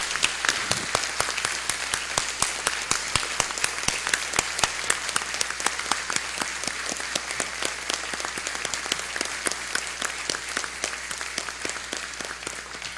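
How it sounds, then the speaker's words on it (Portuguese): Warm, sustained applause fills a legislative assembly floor during a tribute marking 45 years of the FMU educational complex, with dense, steady clapping from many hands continuing for the full stretch without pause. "E peço a todo o plenário uma calorosa salva de palmas a eles"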